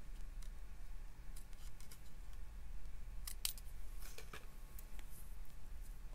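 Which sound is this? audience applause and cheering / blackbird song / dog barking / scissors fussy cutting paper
scissors fussy cutting paper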